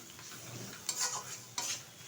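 Bihar-style mutton with meat masala and salt is stirred in a pan, quiet scraping and shuffling over a low sizzle, with two sharper strokes of the spoon against the metal.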